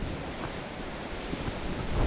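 Strong wind blowing through a valley near shallow river fords, a loud, continuous broadband roar buffeting the microphone with slight gusting swells and no voices.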